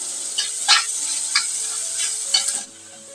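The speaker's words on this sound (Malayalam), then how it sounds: "ഇനി ഒന്ന് ഇളക്കി കൊടുക്കാം ഈ ഉള്ളിയെല്ലാം ഒരു ഗോൾഡൻ ബ്രൗൺ നിറാവുന്നത് വരെ ഒന്ന് ഇളക്കി കൊടുക്കണം" Onions stirred in a frying pan, cooking until golden brown: a steady close sizzle with several scraping strokes of the spoon, then the sizzle drops slightly near the end.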